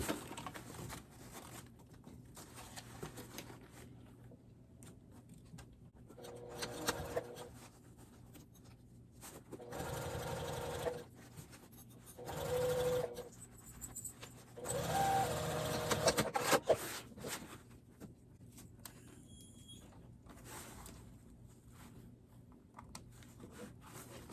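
A sewing machine stitches a zippered makeup bag in several short bursts of rapid mechanical whirring. Quieter handling and rubbing of fabric fill the gaps between bursts.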